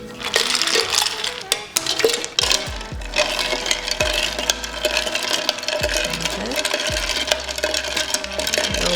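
Ice rattling and clinking as it is stirred through tea in a container, a busy run of close, repeated knocks, scrapes and splashy churning with no talking.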